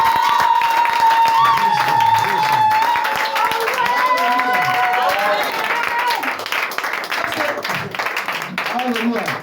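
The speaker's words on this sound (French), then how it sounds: "Acclame encore fort." Loud, sustained applause from a church congregation at a Friday service, steady clapping running throughout with background crowd noise and tonal music or voices layered underneath.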